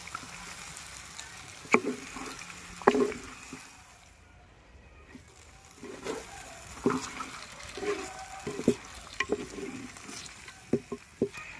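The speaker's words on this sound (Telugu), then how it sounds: "ఇప్పుడు మాంసం వేసుకుని కలుపుకున్నాం" Guineafowl meat fries in an onion-tomato paste with ginger-garlic paste as it is stirred, a low sizzle under scattered scrapes and knocks of the spoon against the pot.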